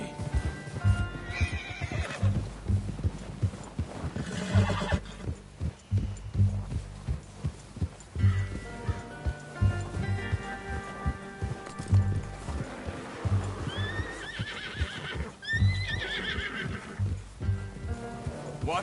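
Horse neighs and whinnies from a video game, with a rough, high whinny standing out near the end, over steady clip-clopping hooves and a low throbbing background.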